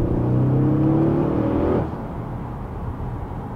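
Engine of an Audi RS6 Performance, a 605 bhp car, revs hard with a rising tone for almost two seconds, then drops to a lower, steadier drone. The sound is loud and close, with no voices.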